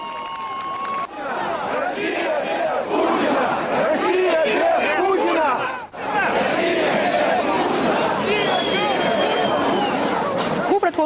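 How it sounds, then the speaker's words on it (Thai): A large crowd of protesters in Moscow shouts in rhythmic unison for Putin to go, loud, massed chanting mixed with background babble that keeps going for several seconds. "รัสเซียต่างพร้อมใจกันเปล่งเสียงตะโกนว่าปูตินออกไป"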